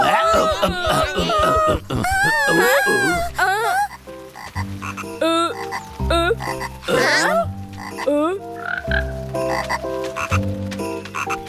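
Repeated cartoonish frog croaks from a Bengali-dubbed animated cartoon, loud and close, mixed with squeaky animated vocal sounds and bursts of music-like tones.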